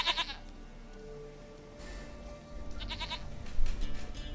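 A goat bleats in the video game The Witcher 3, two quavering calls separated by a pause, fairly faint over a low ambient background.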